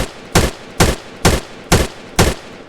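Five evenly spaced single shots from a Roblox game gun in single-fire mode, each a loud, sharp crack with a short tail, loud and close with no voices.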